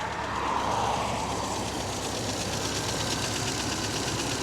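Triumph 1500 engine idling with a noisy tappet, a steady low rumble overlaid by fast, even ticking, close by and moderately loud, with a brief rising whoosh near the start.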